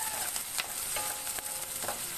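Onion and garlic frying in a pan until golden brown for misua soup, a dense, steady hiss of hot oil with faint crackles and light stirring throughout, no voices.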